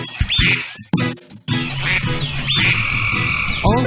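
Cartoon frogs croaking in a Humpty Dumpty nursery-rhyme song, loud, repeated ribbits and croaks over bright music, mixed with duck-like quacks and squawks, no singing heard in this stretch.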